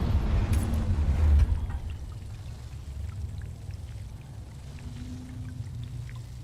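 Water poured in the Dune desert survival game, a gushing pour that is strongest at the start then settles into a softer trickling flow, fairly close with no voices.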